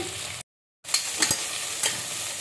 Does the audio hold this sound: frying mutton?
yes